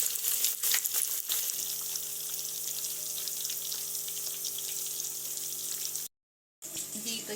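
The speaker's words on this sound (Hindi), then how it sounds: "तो ये जितने पीसेज इसमें आएंगे मैं बस उतने ही इसमें डाल दूँगी, बाकी फिर मैं दोबारा फ्राई करूँगी।" Fish pieces sizzle and crackle steadily in hot frying oil, a dense, even hiss that holds for about six seconds, cuts out briefly, then resumes.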